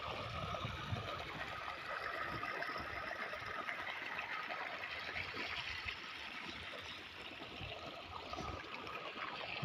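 Water from a running pump motor pours along a dry riverside field, a faint, continuous trickling and gurgling flow that stays steady throughout, with no voices.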